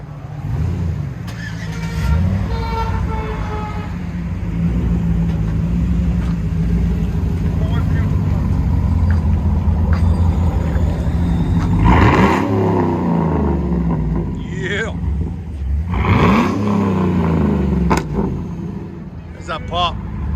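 A 2009 Cadillac Escalade with a 6.2L V8, dual exhaust and a Vibrant race muffler rumbles at close range, rising in a couple of sharp revs with pops, while voices chatter in the background.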